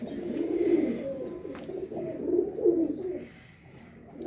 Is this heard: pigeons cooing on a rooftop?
yes